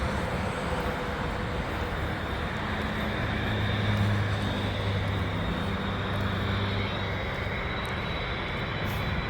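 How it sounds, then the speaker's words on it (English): An Air Canada airliner approaching the runway at Trudeau International Airport makes a steady, distant jet roar that swells slightly midway, with a broad rumble and no talking. "you see this plane here, this Air Canada plane?"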